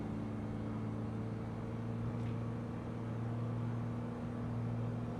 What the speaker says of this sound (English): Your engine's nice and loud. I can hear it going through.